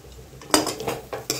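Poha, flattened rice, being stirred and sautéed in a pan for Maharashtrian kande pohe, with a few soft scraping strokes of a spoon against the pan in an uneven rhythm, close and fairly quiet.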